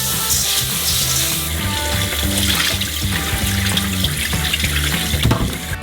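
Steady running and splashing water, continuous and fairly loud, with faint clinks from a bowl as 2 kilograms of rice for Uzbek pilaf are swished and rinsed.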